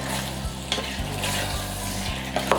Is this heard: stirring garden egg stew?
yes